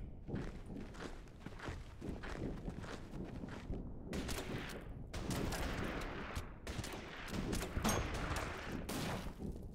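Gunfire in the wartime strategy game Order of Battle: Burma Road: faint, distant rifle and machine-gun bursts crackle in irregular volleys with scattered thuds.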